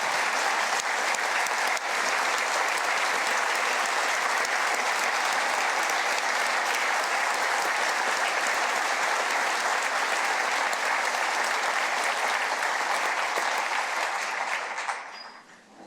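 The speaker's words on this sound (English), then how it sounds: "Please join me in giving Mel a round of applause today." A large audience at a South Dakota state address claps for a student named Mel, sustained and loud for about fifteen seconds before fading out quickly at the end.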